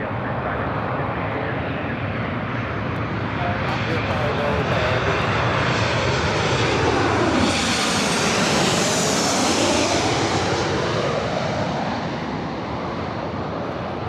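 A jet airliner roars down LAX runway 24 left on takeoff, a loud, steady broadband rush that swells and shifts in pitch as it passes, holding strong throughout.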